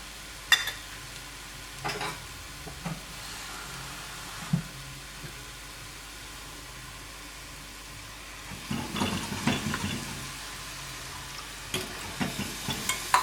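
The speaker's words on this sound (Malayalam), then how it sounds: "എന്നിട്ടിപ്പം നമുക്ക് വേണ്ട വെള്ളം ഇതിലേക്ക് ഞാൻ ഒഴിക്കുകയാണ്." Chicken keema masala sizzling softly in a pan as water is poured in, with a quiet stretch in the middle before louder bubbling and stirring scrapes near the end.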